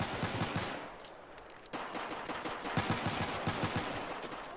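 Rapid automatic gunfire in Battlefield 4's Gunmaster mode, with bursts of crisp, closely spaced shots rattling across the whole stretch, a brief lull near the middle, then sustained firing again, with no talk.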